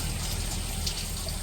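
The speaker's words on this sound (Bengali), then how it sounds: "চালগুলো যে ভিজে রাখছিল ওগুলো দিতেছে" Soaked rice poured into a cooking pot for payesh in a village kitchen, making a steady rushing, splashing wash of sound with no talk.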